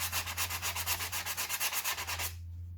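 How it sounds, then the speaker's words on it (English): A 120 grit sanding pad is rubbed firmly over pounamu jade in quick, even back-and-forth strokes, close and moderately loud, about a dozen rhythmic passes before stopping into quiet. "this guy here, the 120 sanding pad, this one is the best at getting some force in on behind this."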